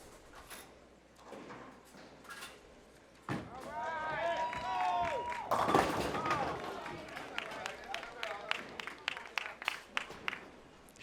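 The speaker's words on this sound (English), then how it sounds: "as you can clearly hear, he has a good cheering section here" A cheering section at a televised bowling show erupts into loud cheers and whoops, then settles into scattered, sharp claps, with talking heard throughout.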